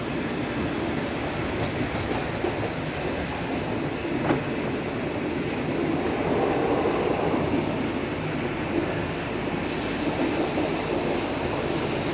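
Local passenger train No. 426 in Thailand runs on the rails between Surin and Chakkarat with a continuous rumbling roar, faint wheel clatter and occasional squeals, heard from inside the carriage with no talk.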